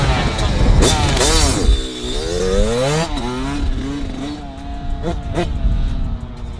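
A brand new 2021 Kawasaki KX85 dirt bike engine revs up and down in loud, rising and falling sweeps, with a person talking over it.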